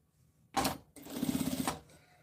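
A sewing machine stitches bias binding onto fabric for a boxy zippered toiletry bag, running in two close bursts: a short one, then a longer steady whir lasting under a second.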